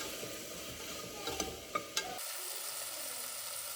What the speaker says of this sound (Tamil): கொஞ்சமாக உப்பு போட்டு நல்லா வதக்கிக்கிறேங்க